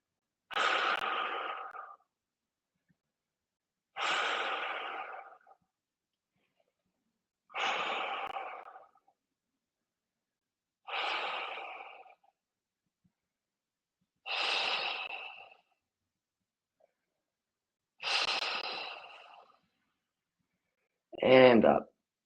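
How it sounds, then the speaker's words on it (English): Slow, deep breaths during a supine yoga stretch for runners, six long even inhale-exhale cycles spaced a few seconds apart with silence between, close and clear, ending in a shorter sharper breath. "and just breathe now"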